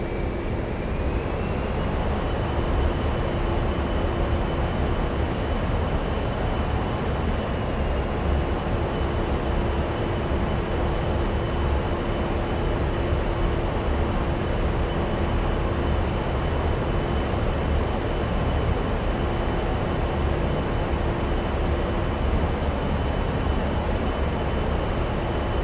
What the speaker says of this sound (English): Now let's accelerate by advancing the throttles back to max.